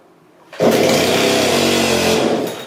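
A Dolmar PS510 chainsaw, choked indoors, starts after a pull and roars at a steady loud idle-to-rev drone for about two seconds before tapering slightly.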